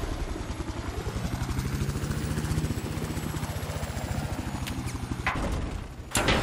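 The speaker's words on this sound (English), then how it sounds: "little bird behind us" Little Bird light helicopter in the Battlefield 4 video game, a loud rapid rotor chop throbbing steadily close by, with a couple of sharp bursts near the end.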